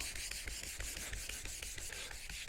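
Old paint on a classic VW Beetle is rubbed back by hand, a steady rhythmic rasping scrub of repeated short strokes, close but quiet, with no talk.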